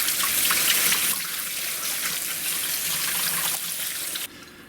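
Tap water pours steadily into a pan of soaked soybeans, a close, continuous rushing splash that softens partway through and cuts off near the end.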